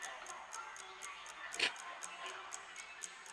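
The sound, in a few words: wall clock ticking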